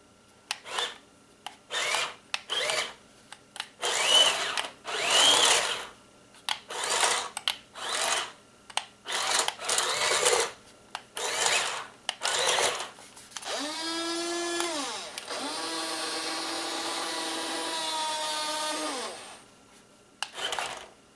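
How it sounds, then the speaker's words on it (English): A Heng Long 1:26 scale RC Panzer tank runs its small electric motors in repeated short whirring, rasping bursts, then in two longer whining runs that rise and fall in pitch. The sounds are close and moderately loud, with no talking. "Turn the controller on, get the red light, and let's turn the tank on."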